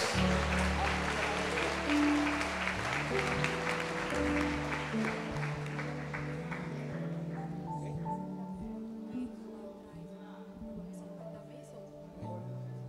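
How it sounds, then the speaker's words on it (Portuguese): A church congregation applauds at a celebration of a pastor's 47th wedding anniversary, with broad clapping blended with organ or keyboard chords and voices, gradually fading toward the end. "Aplauda ao Senhor, glória a Deus."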